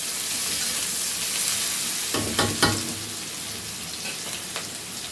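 Onions fry in a pan for an Odia mushroom and mango-pickle curry, a close, continuous sizzling hiss broken by a brief cluster of scraping, stirring clatters near the middle.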